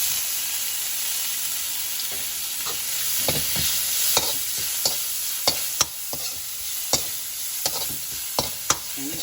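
Pork frying in a pan for drunken noodles (chow fun) gives a steady close sizzle, broken by a run of sharp clicks and stirring scrapes from a utensil against the pan.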